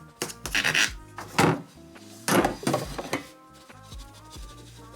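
A knife saws through homemade bread still in its pan, several rough rasping strokes in uneven bursts, close and fairly loud, with no talk.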